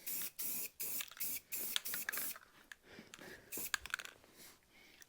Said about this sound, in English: Rattle cans are the best.